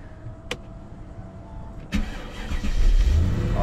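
A supercharged V8 engine starts weakly: a couple of faint clicks, a cranking burst, then a rising, rough low rumble as it catches and runs.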